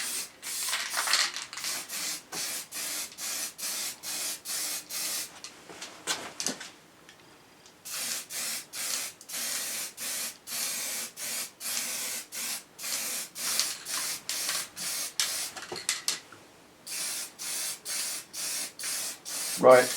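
Aerosol spray coats of Plasti Dip go onto a Triumph motorcycle bash plate, heard as many short, loud, repeated hissing bursts in a steady rhythm, broken by a few brief pauses.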